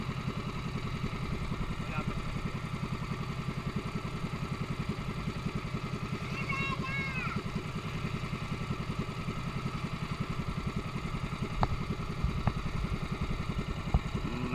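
A pump boat engine runs on a ride off LABELLA Beach House in Bolon, Cebu, Philippines, a steady loud chugging drone throughout with a faint voice briefly under it.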